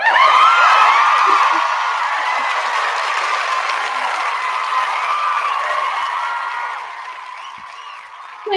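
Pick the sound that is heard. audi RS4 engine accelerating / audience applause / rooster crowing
audience applause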